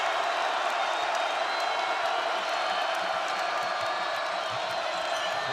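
A basketball arena crowd at Nebraska, on its feet, cheering and whooping in a continuous, dense roar that holds steady throughout with scattered shouts.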